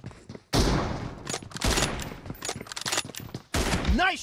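M24 rifle shots and battle noise in a mobile shooter team deathmatch, with loud sharp blasts at the start and near the end over busy game sounds.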